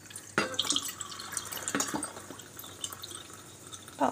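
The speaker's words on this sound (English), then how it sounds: "just add some water." Water poured onto Himalayan pink salt in a container, giving a quiet trickle with a few sharp splashy drips and pours spread across a few seconds, faint and close, with no talking.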